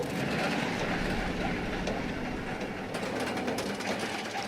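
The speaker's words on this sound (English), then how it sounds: "heading up the lift hill here" A video-game roller coaster climbs its lift hill with a steady, dense mechanical rattle and chain-like clatter that continues evenly without pause, no talking.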